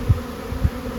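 Honeybees buzz around an opened hive during an autumn colony survival check, a low steady hum with a few louder passes close by.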